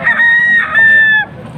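A single rooster crow at a livestock auction market, loud and close, rising and holding for about a second before cutting off, with faint background noise.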